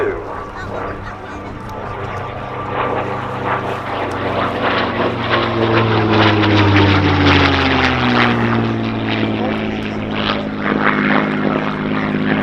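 A World War II propeller combat aircraft performs at an RAF Cosford airshow, its engine droning loud and steady with a rising, shifting pitch as it passes, while a faint voice talks underneath.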